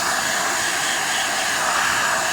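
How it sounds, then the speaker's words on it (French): A vacuum cleaner running close by while cleaning lint and fabric residue from a Singer S14-78 serger, producing a steady, loud, unbroken whine with no speech. "je vais éteindre l'aspirateur."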